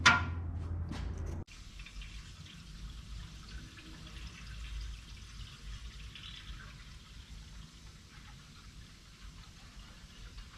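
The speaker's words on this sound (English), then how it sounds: "I'm gonna go ahead and pour some water in it so I can fire it up again" Water is poured into the cooling system of a 1953 Plymouth Cranbrook, a short burst of splashing at first, then a quiet, steady trickle and faint dripping.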